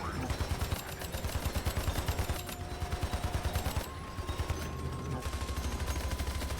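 Rapid automatic gunfire from the video game Hypercharge: Unboxed, fired at orange targets on upgraded walls, a fast steady stream of loud shots that pauses briefly and resumes, with an in-game tone sounding beneath it.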